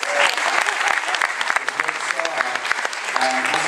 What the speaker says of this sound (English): Chris, the delightful Chris, give him a nice round of applause.